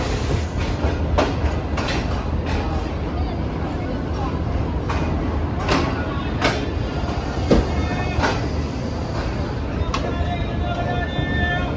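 The Shalimar Express passenger train runs on the Karachi to Lahore line, with a continuous loud rumble and a regular clickety-clack of wheels over rail joints, heard from inside the coach.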